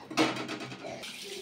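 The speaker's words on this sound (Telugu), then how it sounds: "ఇప్పుడు ఈ 2 వాటర్ అయితే వంపేసుకుందాము." Soaking water poured off soaked moong beans in a home kitchen, a brief splashing rush with clinks of a steel vessel, fairly close and alone.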